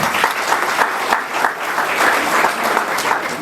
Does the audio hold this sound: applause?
yes